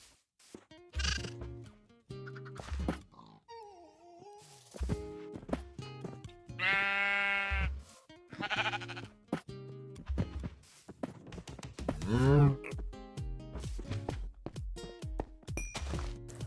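Sheep in the Minecraft video game bleat repeatedly among scattered game thunks and hits, the bleats loud and close with wavering pitch, and no talking.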